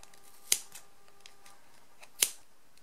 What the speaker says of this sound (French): je vais maintenant le couper et le nouer